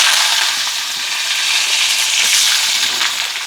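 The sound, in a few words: mustard seeds and fennel frying in hot oil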